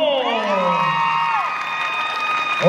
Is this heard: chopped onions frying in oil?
no